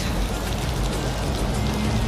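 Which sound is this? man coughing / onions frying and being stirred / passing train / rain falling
rain falling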